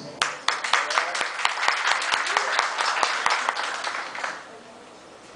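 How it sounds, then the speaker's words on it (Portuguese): Audience applause at a municipal health conference in Indiaroba, a dense run of clapping with sharp individual claps that swells, holds steady, then thins out near the end. "saudar com uma salva de palmas a todos os que estão presentes"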